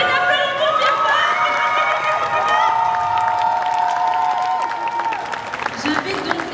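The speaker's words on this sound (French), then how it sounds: "On les applaudit bien fort." A crowd of fans applauds and cheers contest participants at DconGeek 2025, a geek convention. Dense, loud clapping and shouts fill the hall throughout, with voices calling out over the din.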